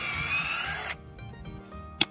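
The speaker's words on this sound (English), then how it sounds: "Next, bore holes in your fence posts that are in the ground." A power drill bores holes into H-brace fence posts set in the ground, running loud and steady before cutting off abruptly, followed by faint rattles and one sharp knock.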